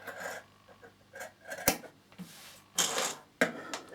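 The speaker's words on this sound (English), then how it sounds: "So I'm going to cut that square out in the corner like this." Scissors snipping a square out of the corner of fabric for a fabric box, a few separate crisp cuts and rustles up close with short pauses between them, no talking.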